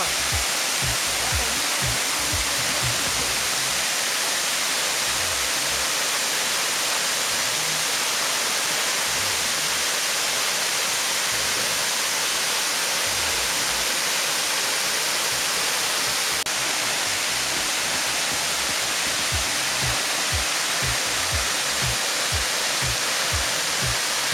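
The Lotricior waterfall in a mountain gorge gives a steady, loud, broadband roar of falling water that goes on unbroken throughout.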